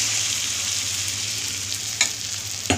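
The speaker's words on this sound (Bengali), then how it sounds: "মশলাটা একটু কষিয়ে নিই।" Spice paste fries in oil with potatoes and peas, a steady close sizzle filling the whole stretch, broken by a couple of sharp scraping stirs near the end.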